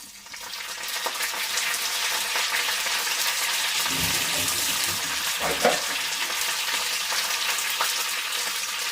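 Curry leaves dropped into hot oil with cumin seeds for a tempering, a loud continuous hiss and sizzle with a brief burst of spluttering and stirring partway through, close by and without talk.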